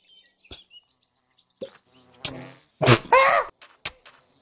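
Minecraft bees buzz in short, scattered bursts inside the game, with brief squeaky and chirping game sounds and a few spoken voices in between.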